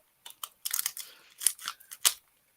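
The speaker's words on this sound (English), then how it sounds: "My special scissors." A few sharp snips from a pair of scissors cutting close up, irregular bursts of crisp metallic clipping and rustling separated by short pauses.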